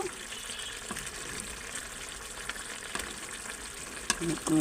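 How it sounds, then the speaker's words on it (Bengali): Fish pieces simmer and fry in a thick kalia gravy, giving a steady close sizzling bubble throughout with a few brief stirring knocks and scrapes near the end. "ঝোলটার মধ্যে আমি এবার মাছটা দিয়ে দিয়েছি"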